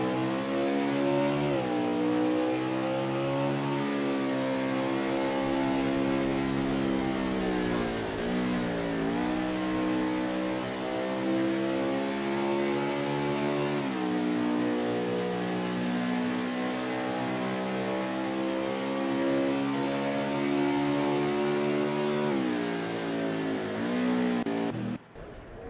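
Race car engine in a racing video game lapping Mid-Ohio, a loud continuous rich-toned whine that rises through gears with brief dips at shifts, sustained for the whole run before cutting off near the end.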